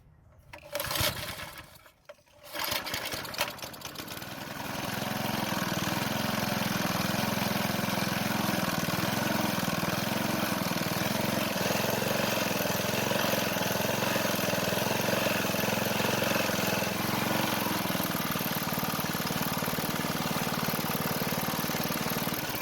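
A small two-stroke engine on a lawn edger with a diaphragm-pump fuel system sputters briefly, then catches and runs steadily near and loud, its idle wavering slightly before settling.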